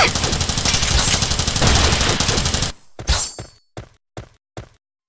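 Rapid sustained gunfire from the mobile game Starseed: Asnia Trigger, a dense loud burst for nearly three seconds, then a few separate sharp shots and impacts trailing off into silence.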